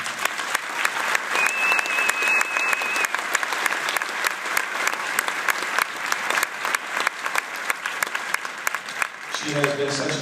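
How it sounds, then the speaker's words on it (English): School band festival audience gives a sustained, lively round of applause for the band directors, dense clapping throughout with a brief whistle, then a voice begins speaking as it tapers off. "So would you please give a wonderful round of applause to the Dimmick and Tonica band directors, Mrs. Chris Drag."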